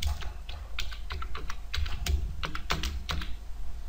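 Rapid, uneven clacking of keys on a computer keyboard, close and steady for several seconds with no talking.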